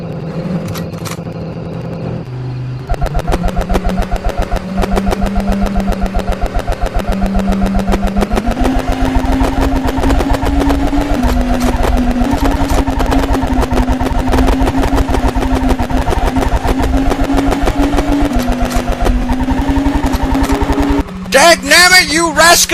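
A loud, steady video game car engine drone with a buzzy harmonic tone that rises in pitch in steps like gear changes, running continuously before cutting out near the end.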